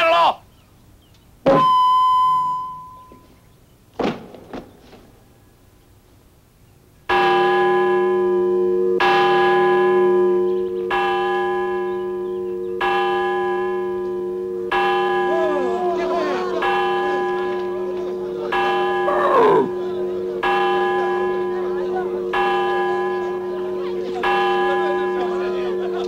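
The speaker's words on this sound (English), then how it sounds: "This bell is ringing for you, Colonel Huerta." Church bell tolling in slow, steady repeated strokes, loud and close, each ring sustaining and overlapping the next, following a few brief sharp sounds at the start.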